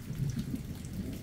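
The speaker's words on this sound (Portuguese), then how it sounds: "E agora a chuva tá voltando." Steady rain falls in the Brazilian sertão after six months of drought, a dense continuous patter on the ground with a low rumble beneath it, close and even throughout.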